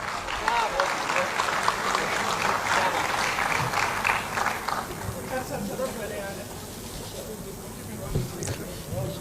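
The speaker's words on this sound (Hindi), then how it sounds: "भरपूर तालियों में इस्तकबाल कीजिए शकील जमाली साहब का।" Applause from a mushaira audience welcoming a poet, a dense sustained clatter of many hands that swells early and slowly thins toward the end, with crowd murmur underneath.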